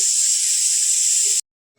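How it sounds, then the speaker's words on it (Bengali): A pressure cooker cooking chana dal gives off a steady, loud hiss of escaping steam that cuts off abruptly. "প্রেশার কুকারে আজকে ছোলার ডালটা চাপিয়ে দিলাম।"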